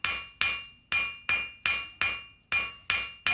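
A blacksmith's hammer strikes hot steel on a cold anvil while tapering a wall hook, eight sharp, evenly spaced ringing blows close by, each decaying quickly before the next, with no talking.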